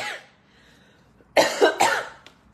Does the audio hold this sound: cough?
yes